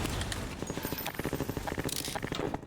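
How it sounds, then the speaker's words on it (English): Hooves of a horse clip-clopping in the video game Half-Life 2, a run of close, fairly quick knocks with a brief crackle and faint background sound. "No, the horse."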